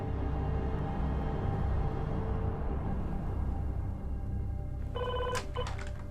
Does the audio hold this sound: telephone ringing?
yes